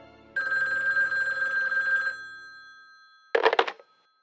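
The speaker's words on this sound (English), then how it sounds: "Before I could sleep, my phone rang." A telephone rings with a long metallic bell trill of about two seconds, then a pause and a second shorter burst, close and clear with nothing else around.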